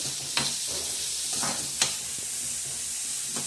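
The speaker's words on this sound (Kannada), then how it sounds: "ನೋಡಿ. ಆನಿಯನ್ ಫ್ರೈ ಆಗ್ತಾ ಇದೆ." Onions with curry leaves frying in a hot pan give a constant bright sizzle, broken by a few sharp scraping stirs of a spoon, close up and without voices.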